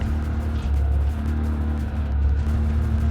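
A race car engine idles in a racing video game set on the Nordschleife, with a low, steady rumble and faint wavering tone held for a few seconds, close and unaccompanied.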